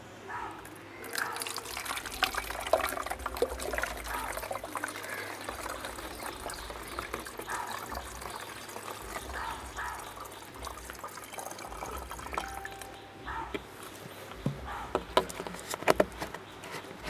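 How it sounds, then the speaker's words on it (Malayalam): Cold water from the fridge pours into a bottle for a salt-water filter, giving a continuous, soft trickling and gurgling fill with small drips, close by and fairly quiet, with no one talking. "അപ്പോൾ അത് ഒഴിച്ചു കൊടുക്കാം."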